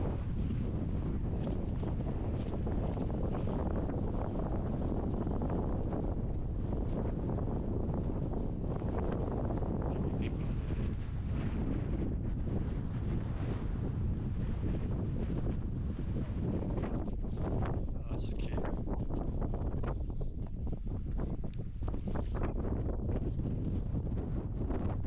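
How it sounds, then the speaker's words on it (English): Steady wind buffets the microphone on an open Welsh hillside between Llyn y Fan Fach and Llyn y Fan Fawr, where a gap channels the gusts; loud, continuous roaring rush with surging gusts, no talk. "I think there's like a little wind tunnel here."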